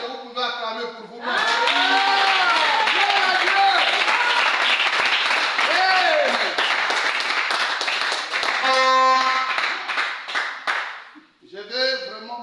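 A church congregation bursts into loud, sustained applause and cheering that fills most of the stretch, with a preacher speaking French before and after it.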